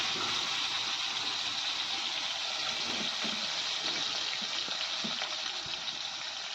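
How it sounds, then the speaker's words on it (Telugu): Pieces of fish fry in spitting oil for a home-made fish curry. A loud, continuous sizzle and crackle fills the whole clip, with occasional sharper pops and soft knocks of handling underneath. "ఆయిల్ చిట్లుతూ ఉంటుంది, మనం జాగ్రత్తగా ఉండాలండి"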